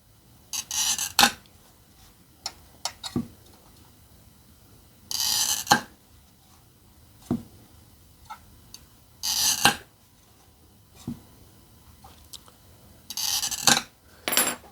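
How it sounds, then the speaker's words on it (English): A glass cutter scoring relief lines on stained glass, heard as four separate bursts of sharp, gritty rasping, each about half a second long, with small ticks and taps of the tools in between. "Next, I'll score some relief lines."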